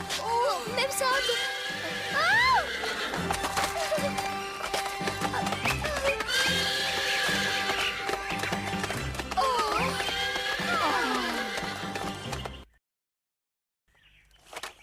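A cartoon horse neighs and whinnies repeatedly in a Cinderella animated episode, shrill rising and falling calls over music and occasional hoof taps, continuing for several seconds before ending in near silence.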